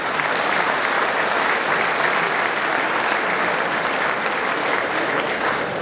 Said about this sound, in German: Bitte geben Sie einen Runde extra Applaus für diese 6 wunderbaren Kühe.